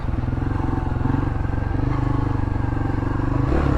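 A 2018 Honda CRF250L single-cylinder engine runs close by, a loud, steady, rapid thumping putter that holds an even pace for the whole stretch before rising slightly at the end.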